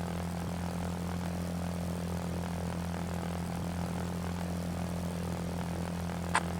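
Propeller plane engine droning steadily while landing at an airfield near Dunkirk in a video game, a constant low hum at moderate volume with a brief click near the end.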